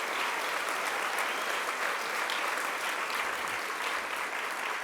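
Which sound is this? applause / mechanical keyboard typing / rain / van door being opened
applause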